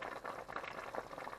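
Chicken and fish ball Thai green curry simmering under a lid, a steady soft bubbling and burbling at low level, continuous and unbroken with no voices.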